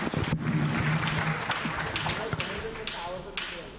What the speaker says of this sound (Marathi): खरंच जोरदार टाळ्या.